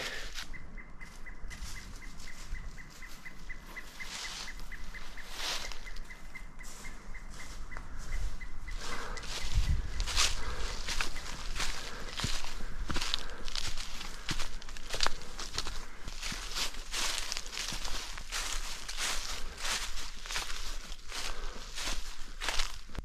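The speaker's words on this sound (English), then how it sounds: "or the footsteps that you're making." Footsteps crunch steadily along a wilderness trail in Shenandoah National Park, soft and continuous, with faint bird chirps in the quiet woods behind them.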